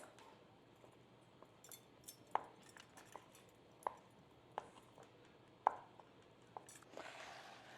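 Knife chopping food into small pieces for a blueberry crisp, a handful of sharp, isolated thunks spaced irregularly against a quiet kitchen background, with a brief rustle near the end.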